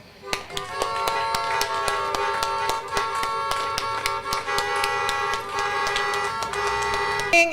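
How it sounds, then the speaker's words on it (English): Car horns honk repeatedly in short, uneven toots at a drive-through graduation, with many sharp taps and claps sounding steadily throughout, fairly distant and busy. "give you a great big shout with our honking and our clapping"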